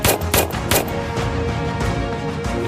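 Gunfire from a video game plays as wrong quiz answers printed on dog tags get shot, with several sharp loud bursts early on, then a dense, rumbling background of game sound and music.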